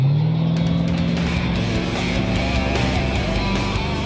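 A loud powerboat engine roars and builds as it accelerates, a strong continuous drone with rising pitch, no voices.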